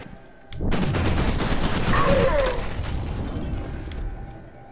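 Rapid gunfire in the video game F.E.A.R. 2: a dense, loud, sustained stretch of overlapping shots and bursts kicks in after a brief quiet start and carries on to the end.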